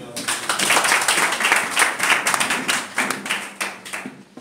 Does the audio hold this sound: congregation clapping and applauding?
yes